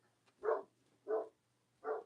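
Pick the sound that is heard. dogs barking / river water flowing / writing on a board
dogs barking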